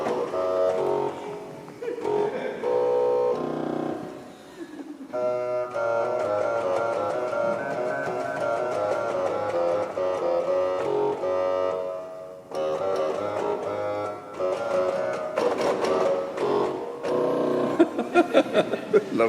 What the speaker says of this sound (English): So there's plenty of room for a Dulcian in there, and it sounds like this.